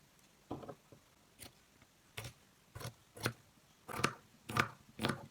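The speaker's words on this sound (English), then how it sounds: "you want to cut the raw edge" Scissors snip through the raw fabric edge of a homemade face mask, producing faint, separate short cutting clicks in an irregular series of about eight, close by in a quiet room.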